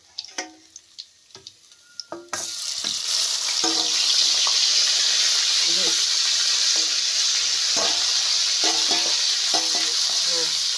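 Chopped spring onion greens hit hot oil in a pan and settle into a loud, continuous sizzle, with a few scattered clinks and taps from stirring before the frying begins.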